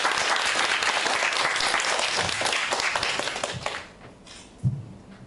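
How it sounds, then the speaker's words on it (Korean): A crowd gives welcoming applause for a new director at an inauguration ceremony of the Seoul education research institute, loud sustained clapping that thins and fades away, ending with a few scattered claps and quiet room noise. "김준호 원장님 다시 한번 큰 환영의 박수 부탁드립니다"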